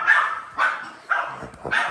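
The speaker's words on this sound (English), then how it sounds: "Uh-oh, puppy dogs." Dogs bark four times in quick succession, moderately loud and close, each bark slightly spaced with a whiny edge.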